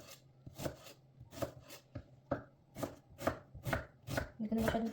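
A knife chops an onion on a board in quick uneven strokes, about a dozen crisp close knocks with short pauses between bursts.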